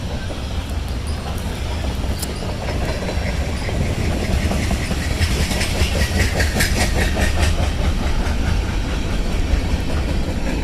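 A train rolls past slowly and very close to a campsite, with a steady low rumble and rhythmic clickety-clack of wheels on rail joints, close and continuous throughout.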